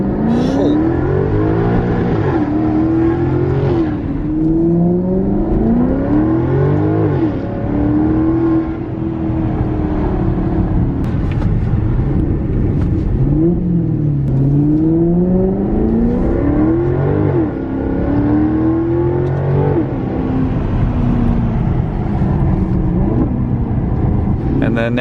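An exotic car bought as a flood-damaged salvage auction vehicle revs hard through a first-gear pull. The engine note climbs and drops in repeated sweeping surges, loud and close, with someone talking over it.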